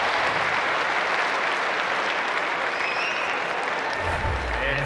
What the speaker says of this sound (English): and then cue the applause, hold the pose